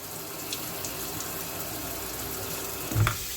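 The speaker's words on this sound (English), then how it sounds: "take this, see how crazy it sprays?" Water sprays steadily and erratically from a faucet with a slow, clogged flow, a continuous close hiss with a brief bump near the end and no talking.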